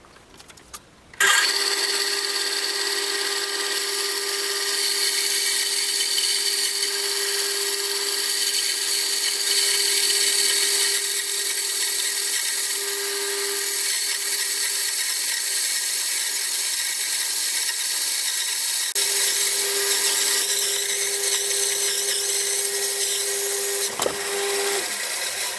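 A tabletop bandsaw cuts through a small maple log about 28 cm across and 87 cm long, a loud, steady, close whine with a sustained tonal buzz that runs almost unbroken for over twenty seconds.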